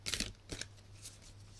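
Tarot cards are shuffled in a few quick, soft riffling bursts, close and quiet, with no talking.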